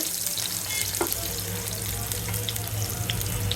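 Bottle gourd going into hot oil tempered with cumin seeds and a bay leaf, giving a steady, dense sizzle and crackle that carries on evenly throughout with no talking.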